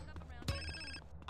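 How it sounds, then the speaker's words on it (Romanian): Phone ringing in GTA San Andreas, a bright electronic ring with layered tones heard once over the game's background sound. "Iar sună telefonul."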